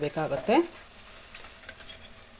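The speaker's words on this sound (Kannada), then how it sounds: "ಈರುಳ್ಳಿ ಚೆನ್ನಾಗಿ ಬೇಯುತ್ತೆ ನೋಡಿ ಪಕೋಡ ಬೇಯೋಷ್ಟರಲ್ಲಿ ಆಯಿಲ್ ಬಿಟ್ಕೊಂಡ್ಬಿಡುತ್ತೆ" Onion pakoda deep-frying in hot oil, a steady close sizzle and bubbling that runs throughout, with a louder burst of activity near the start before settling into an even hiss.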